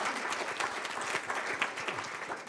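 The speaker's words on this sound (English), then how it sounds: "let's give them another round of applause." Sustained audience applause at a policy pitch conference in Tallinn fills the room, a dense steady clapping from a large crowd with no speech over it.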